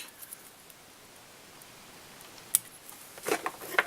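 Scissors snipping thread while tying a Ginger Quill fly, one crisp snip followed by a short cluster of quieter clicks and snips close to the mic in an otherwise quiet room.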